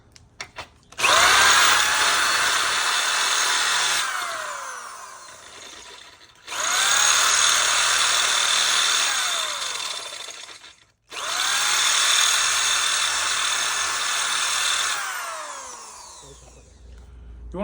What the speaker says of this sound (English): So first, we're gonna drill this rivet out.